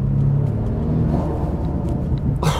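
A BMW M5 CS with turbocharged engine pulls hard under acceleration, a steady close rumble and whir heard from inside the car, ending in a brief sharp whoosh.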